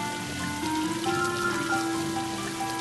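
Kitchen tap water pours steadily over vegetables to rinse off soapy suds, a continuous, close, even splashing hiss that stays alone without talk.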